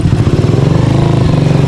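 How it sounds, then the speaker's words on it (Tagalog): A motorcycle engine chugs steadily at low revs, a loud, close, rhythmic putter with a rattling edge. "Buti na lang medyo mataas yung tambutso ng motor"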